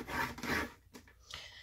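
A paper trimmer scores cardstock for a coin envelope, giving two quick scraping strokes followed by a fainter rub. It is close and quiet, with no voices.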